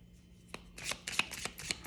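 A deck of playing cards being shuffled up close: a quiet, soft rustle builds into several quick papery riffle bursts over about two seconds, with no talking.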